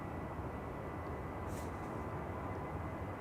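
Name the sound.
Delta Airbus A330 jet taking off at Schiphol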